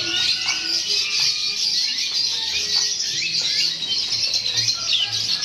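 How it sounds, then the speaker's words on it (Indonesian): An ordinary AF canary sings in a bird kiosk: steady, fast, high-pitched chirps and trills run continuously at moderate volume, with faint low background noise and no talking. "Nah, kita geser di sini ada kenari AF biasa."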